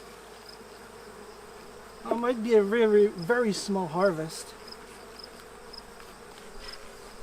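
Honey bees hum steadily around hive combs during a small backyard honey harvest, a close, continuous buzz that carries on under and after a man's brief speech.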